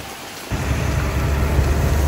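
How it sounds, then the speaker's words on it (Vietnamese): An afternoon rain shower with thunder in Da Lat starts abruptly after a brief quiet moment, then a steady, loud wash of heavy rain and low rumbling fills the rest, with no talking. "chiều nay bọn mình hứng dọn một cơn mưa luôn"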